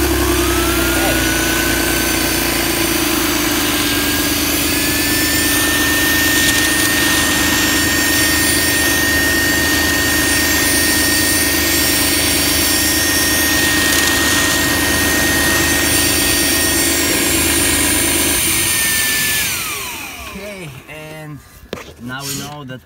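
BMW E46 330xi secondary air injection pump running steadily, a loud continuous whine with a sustained tone that winds down near the end, followed by a few faint knocks.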